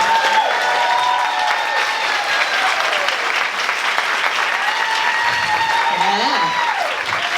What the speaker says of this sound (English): Give them all a really round of applause.